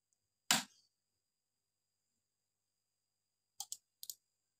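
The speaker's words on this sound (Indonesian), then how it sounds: "relay aktif, relay berbunyi, tandanya sudah terhubung." The protection relay in a full-set AXL PV13000 Ver.2 amplifier gives one sharp click, then after a pause two quick pairs of clicks, crisp and close against near silence.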